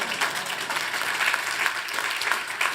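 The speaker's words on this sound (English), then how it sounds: "You can clap first if you want." An audience at a summit event claps together in dense, even applause that swells and eases slightly. It goes on for a few seconds with no talking over it.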